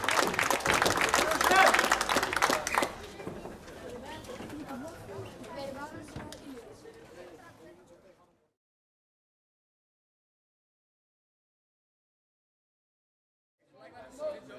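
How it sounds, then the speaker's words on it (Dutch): Crowd applause rings out at a combat-sports fight event, loud for a few seconds, then giving way to a voice over fading murmur before a long silence and a brief return of sound. "Ook een groot applaus voor zijn tegenstander, Machado."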